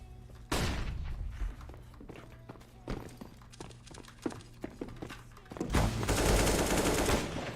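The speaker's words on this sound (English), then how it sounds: "Throwing a flashbang." A flashbang thrown during a CS:GO match, among sharp game gunfire bursts and thuds, ending in a loud sustained blast with a harsh ringing hiss near the close.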